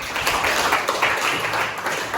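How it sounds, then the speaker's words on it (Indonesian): Applause from a classroom of students, a steady wash of many hands clapping together for about two seconds, fairly close and continuous without any voices over it. "tepuk tangan untuk mereka berdua"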